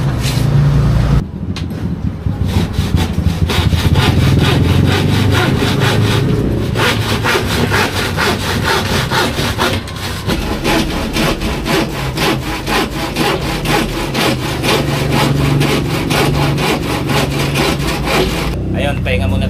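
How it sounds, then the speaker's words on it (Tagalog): Rhythmic rasping strokes of a manual hand saw cutting through wood for a DIY study table, continuous and close, with short pauses between bursts of sawing. "Hirap kayo maglagari lalo na kung manual, diba?"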